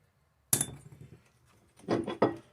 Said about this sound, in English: After a couple or a few good whacks, it will come loose.